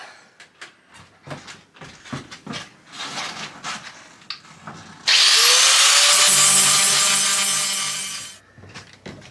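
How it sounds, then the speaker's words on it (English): A power tool grinds or sands down hardened black JB liquid weld on a Renault Trafic van. After some knocks and handling, a loud, whining burst runs for about three seconds and then winds down. "next we just got to grind it down or sand it down and paint over the top"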